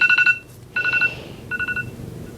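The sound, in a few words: phone alarm going off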